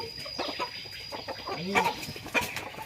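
A chicken clucks close by in short agitated bursts, with a faint steady high whine in the background.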